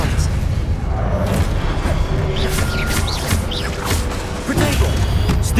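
In Hogwarts Legacy, casting Expelliarmus brings loud magical booms, crackling impacts and whooshing effects layered over game noise, with bursts of energy and a heavy hit near the end.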